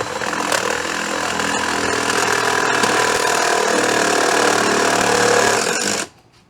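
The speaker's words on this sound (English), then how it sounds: "we're going to just drill out the mounting brackets just a tiny bit just to fit this big old bolt into it" A power drill bores out holes in a metal awning mounting bracket, making a loud, harsh, continuous grinding whir for about six seconds before stopping abruptly.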